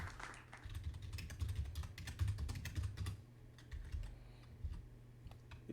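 Quick bursts of typing on a computer keyboard, close and clear, with a dense flurry of keystrokes followed by a few scattered taps.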